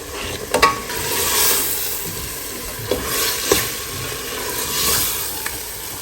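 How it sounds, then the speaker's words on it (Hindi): Mutton roasts with spices in a pan, a steady close sizzle with swelling surges and scattered spoon scrapes and taps as it is stirred. "तो जब तक गोश्त की भुनाई हो रही है"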